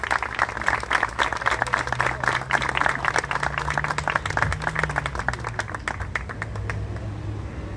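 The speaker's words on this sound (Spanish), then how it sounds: "a quien recibimos con un fuerte aplauso" Applause at a ceremony honoring an urban guard officer, a steady, fairly close crowd clapping with crisp individual claps for nearly eight seconds over a low hum, easing slightly toward the end.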